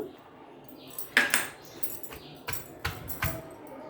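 A stone pestle pounds grated raw mango and onion on a traditional grinding stone for chutney, giving irregular sharp knocks and scraping taps at close range, about a dozen hits spread unevenly with no talking.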